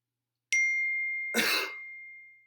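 A single person coughs once, a sharp, close burst that follows a thin tone and stands alone in otherwise silent surroundings.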